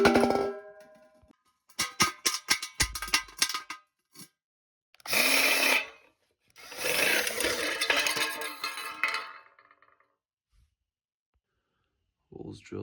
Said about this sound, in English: Holes drilled there.